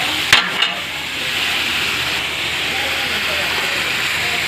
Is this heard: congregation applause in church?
no